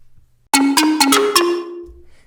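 A Bamboo Slurp mallet synth lead plays five bright, plucky notes in a quick stepping phrase, each with a woody attack and ringing tail that fades into silence.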